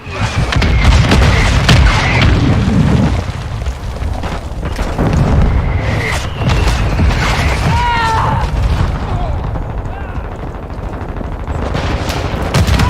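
A Semtex grenade goes off amid a Call of Duty Warzone firefight, with loud booms layered over dense, rapid gunfire and mechanical clatter that continue throughout at close range.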